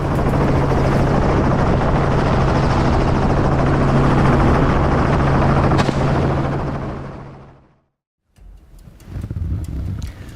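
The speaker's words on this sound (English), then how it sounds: "the emissions and noise from the helicopter also affect the environment and lives of animals and people living near the area" Helicopter flying overhead, a loud, steady rotor thrum with a droning low hum that fades away to silence, followed by faint distant noise.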